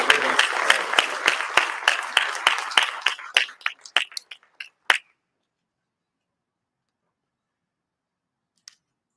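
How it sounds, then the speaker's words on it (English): An audience at a Yom Ha'Shoah commemoration stands and applauds Holocaust survivors. Dense, close clapping thins into scattered claps after about four seconds, then stops, leaving silence broken by one faint click near the end. "I think it behooves us to stand and applaud these survivors"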